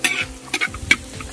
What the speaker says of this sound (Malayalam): ചെറിയ ഉള്ളിയൊക്കെ നല്ല രീതിയിലൊന്ന് വഴന്ന് വരണട്ടാ. അതുപോലെ നമുക്ക് നല്ല രീതിയിൽ ഒന്ന് ഇളക്കിയെടുക്കാം.